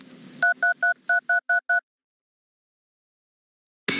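Telephone keypad dialing tones from a television advertisement, seven clean evenly spaced beeps in quick succession, loud and close, followed by silence and a brief burst of other sound at the end.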